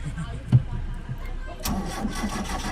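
A mechanic cranks a car engine that was suspected of an electrical problem, giving a short sharp crank followed by a low rough engine rumble while people talk nearby.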